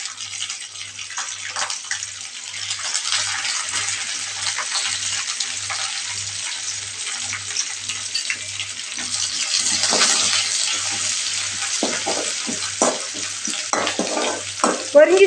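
Curry leaves frying in a pan of oil for pongal tempering give a broad, steady hiss and crackle with a low periodic hum beneath, flaring louder near the end with a few sharp pops.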